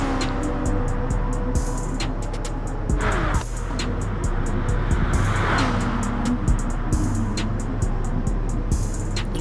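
Several race car engines in Gran Turismo Sport roar and whine continuously, rising and falling as the cars shift gears and pass, with occasional tire squeals.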